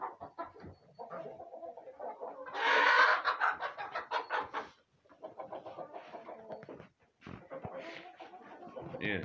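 Hens cluck and murmur close by in uneven bursts, with a louder flurry partway through and faint voices in the background.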